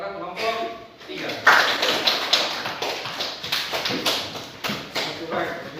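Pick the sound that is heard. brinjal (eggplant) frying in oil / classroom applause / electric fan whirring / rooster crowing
classroom applause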